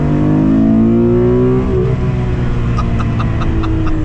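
A Porsche sports car engine revs hard and high above 5,500 RPM, its pitch climbing steadily and then holding at a loud, sustained whine, close and continuous.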